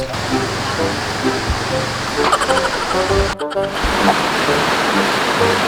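Kawasan Falls waterfall sends up a steady, loud broadband rush of falling water, with faint voices and brief handling noise mixed in near the middle.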